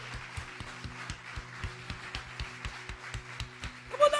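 A church congregation claps in steady rhythm during worship, regular even claps, fairly soft and slightly distant, over a low sustained tone.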